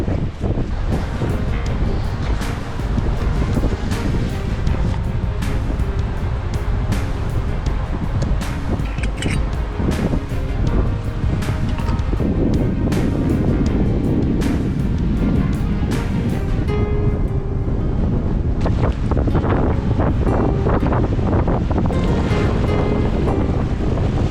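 Strong wind buffets the microphone while sea waves roll and wash continuously along the coast on a cold day of sea trout fishing. The loud, steady roar has no talking over it.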